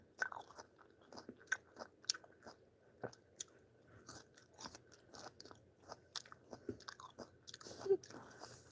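Plums, peaches and yellow watermelon being eaten up close, with soft wet bites and chewing crunches repeating in an irregular rhythm, fairly faint and alone with no talk.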